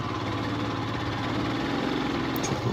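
A motorcycle engine labours steadily while climbing a rocky offroad slope at sunrise, a loud, continuous close-up drone with no talk over it.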